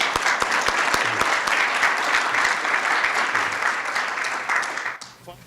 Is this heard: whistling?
no